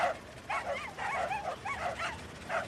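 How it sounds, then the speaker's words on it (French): Several dogs bark and yip together in a rapid, overlapping chorus, heard from a moderate distance at a fairly soft level, as a truck passes a garden at night. "Les chiens aboient tous ensemble."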